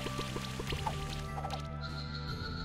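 Bubble Burst water attack in the creature-battling game Monster Sanctuary: quick watery bubbling pops and a liquid squish over a sustained musical backdrop, brief and bright.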